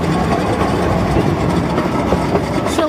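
A ride on the train at the Efteling theme park in winter, with steady rumbling wheels and faint clickety-clack rhythm under a constant engine drone, close and even.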